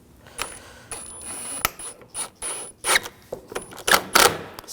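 Screws being driven and snugged into a headlight assembly on a 2006-2009 Audi S4, close-up clicking and ratcheting bursts with short whirring runs of a tool, several quick irregular pulses.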